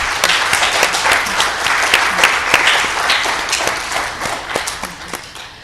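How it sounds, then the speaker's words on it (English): An audience at a careers-in-management session gives panelists a sustained round of applause, many hands clapping in a thick, even patter of crisp claps that lasts several seconds. "So if we can give them a round of applause."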